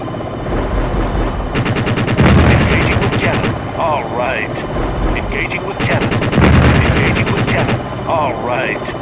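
Two long bursts of rapid cannon fire from a helicopter in the Jane's Longbow video game, separated by a pause. Each burst is loud and close over a constant rotor and engine rumble, with short warbling electronic tones in between.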